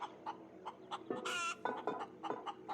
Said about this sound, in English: And we're shoving a chicken in there.